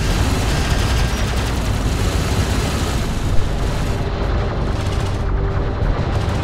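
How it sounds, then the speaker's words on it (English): Dense, continuous battle din from the 2016 PC real-time strategy game Homeworld: Deserts of Kharak, with steady gunfire and explosion booms rumbling together at a loud, even level throughout, with one slightly sharper hit near the middle. "Armor vehicle taking effective fire."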